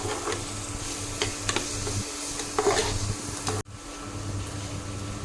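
Green chillies sizzle in hot oil in a pan for egg masala, giving a steady crackling hiss with stirring scrapes. The sound cuts off briefly partway through, then resumes.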